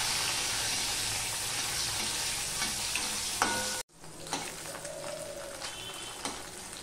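Lentil vadas fry lightly in hot oil a few at a time, making a steady, close crackling sizzle that briefly cuts out and resumes with occasional spatula scrapes.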